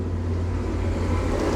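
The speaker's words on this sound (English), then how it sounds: "Tractor." A farm tractor passes in the countryside, its diesel engine a continuous low, throbbing rumble, fairly close and steady throughout with no speech.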